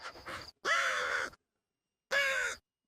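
A crow caws twice in a story scene about a thirsty crow wandering a forest, two harsh drawn-out calls separated by a short silence, close and clear with nothing else around them.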